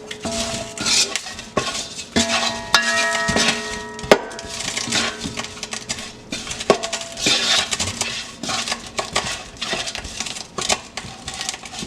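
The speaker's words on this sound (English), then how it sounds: "And I'm going to stir it." A spoon stirring onion powder into peanut butter soup in a metal pot, with bright repeated clinks and scrapes against the pot in an uneven rhythm, loud and close, no voices.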